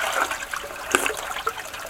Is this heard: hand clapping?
no